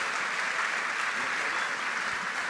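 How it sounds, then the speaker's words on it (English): Steady, even applause from an audience at a season awards banquet, continuous and moderately loud for a couple of seconds. "Another round of applause."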